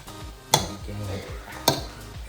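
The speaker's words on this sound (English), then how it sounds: "mix it together" Salad ingredients being tossed and mixed in a bowl: soft rustling and stirring with two sharp utensil knocks against the dish, close and moderately quiet, no talking.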